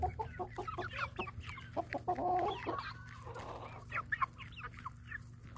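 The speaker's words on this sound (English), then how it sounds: "I do not know where all these chickens come from," Chickens cluck and chatter close by as they crowd around bread being held out to them, a busy run of short clucks and squawks over a low steady hum, with no talking.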